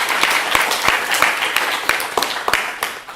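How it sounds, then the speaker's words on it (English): Conference attendees at closing remarks break into applause, a steady, fairly loud patter of many hands with a few individual claps standing out, and no one speaks. "So let's give a round of applause to people coming so far."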